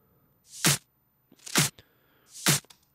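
Layered clap samples from a trance remix: three sharp, bright percussive claps spaced roughly a second apart, each with a short tail and clean silence between them.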